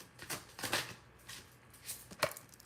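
Tarot cards are shuffled by hand, a series of soft, quick riffling flicks and slaps in an irregular rhythm, close and fairly quiet, with no talking.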